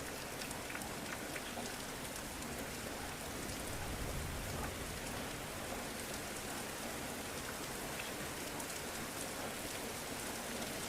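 Steady rain falls through a dark night, a dense, even hiss of drops that continues unbroken for about eleven seconds with no voices.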